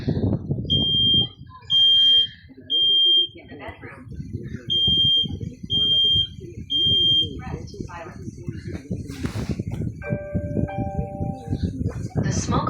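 A home smoke alarm beeps in a repeating pattern of loud, evenly spaced tones while a person talks continuously underneath.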